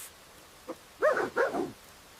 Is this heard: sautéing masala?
no